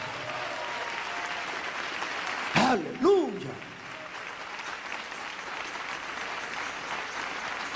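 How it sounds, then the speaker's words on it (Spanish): A church congregation applauds in a continuous broad roar of clapping, with a single loud shouted exclamation rising above it partway through. "Denle ese aplauso al Señor Jesús."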